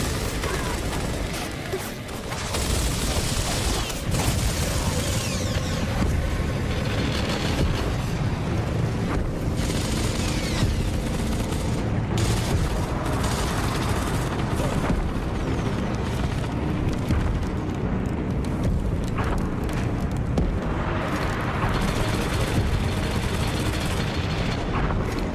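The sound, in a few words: gunfire in ambush, Gears of War video game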